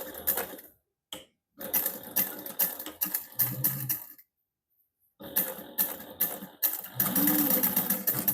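A sewing machine bastes webbing onto a holiday armadillo stocking with a quarter-inch seam. It whirs in short bursts of rapid stitching separated by brief silences, up close, and nobody speaks.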